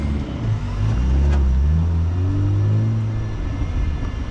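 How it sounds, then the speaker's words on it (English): An MG ZT 190's exhaust revs up close by as the car is turned around to drive onto a rolling road, a steady loud engine drone swelling in the middle and easing off, with no talking. "I hear that exhaust a little bit."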